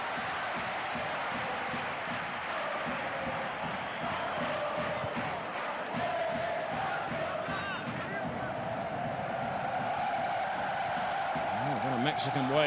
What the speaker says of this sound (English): Mexican wave around the stadium here.